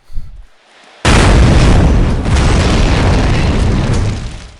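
Shot barrels exploding in Shadow Ops: Red Mercury: a sudden loud blast after a brief quiet, followed by a long, roaring burning rumble with a second swell of explosion midway, fading at the end.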